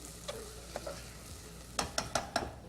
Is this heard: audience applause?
no